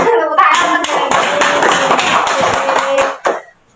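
Small group clapping together during a group guidance session, loud close rhythmic claps with some sung or spoken voice mixed in, ending abruptly before a brief pause and a last clap.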